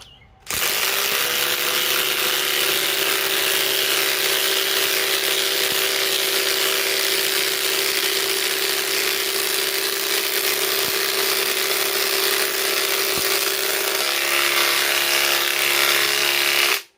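Ridgid subcompact and DeWalt Atomic DCF921 cordless impact wrenches on a 5 amp hour battery run together at full speed, a loud, steady motor whine and rapid hammering buzz held without pause for about sixteen seconds, then cut off.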